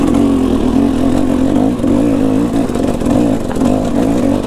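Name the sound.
KTM 300 motorcycle engine lugging in second gear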